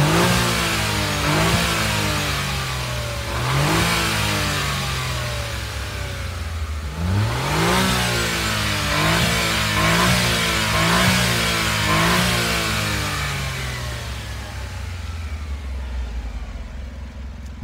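A Honda S660's engine revs repeatedly through its stock exhaust, rising and falling in roughly regular bursts, loud and close, then settles toward idle.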